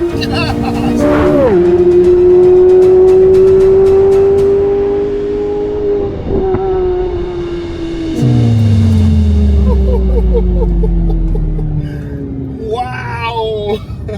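A modified Chevrolet Corvette C8 Z06 with a ported throttle body pulls hard through the gears, its loud engine note climbing in long sweeps and dropping at each shift, close to the listener with excited shouting over it.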